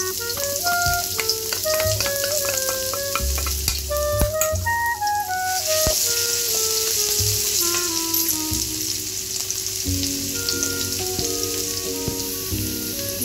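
Steady sizzling of chopped garlic and ginger frying in hot oil, with occasional stirring scrapes and a faint musical backing underneath.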